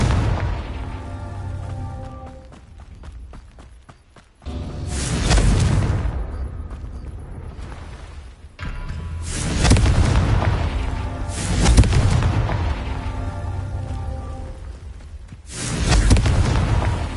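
Confringo spell blasts in the video game Hogwarts Legacy land as a series of heavy booming explosions, each a loud low burst that rumbles and fades before the next, with a music score running underneath.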